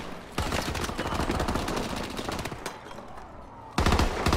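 Assault rifle fire in the Call of Duty: Advanced Warfare video game rattles off in rapid, sustained bursts, and a sharper, louder volley breaks out near the end.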